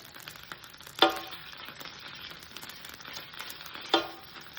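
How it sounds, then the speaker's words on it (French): Butter melts and sizzles gently in an All-Clad pan, a soft steady crackle with two sharper pops, close and alone without voices. "Mon petit morceau de beurre. Voilà, on va laisser fondre ça tranquillement"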